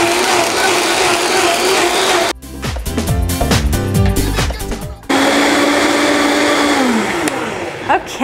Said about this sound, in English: turn on the blender on low first, and then I just speed it up here, and we'll let it blend for about 2 minutes